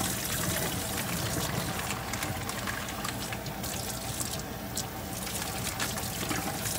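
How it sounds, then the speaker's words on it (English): Rinse water draining off a raw sirloin roast, a continuous close trickle and splashing pour running evenly throughout without a break. "we just rinse it really, really good. You want to get all that blood off of there. And then we just drain this."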